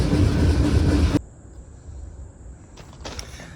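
A loud, dense rumble of a passenger train rolling on rails cuts off abruptly, leaving a quiet hum with a faint high whine and a few light clanks.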